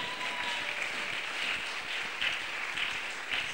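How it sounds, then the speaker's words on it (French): An audience claps through a sermon on marriage, a steady, moderate wash of many hands that continues at an even level for several seconds with small swells. "Je croyais que tu vas acclamer très fort."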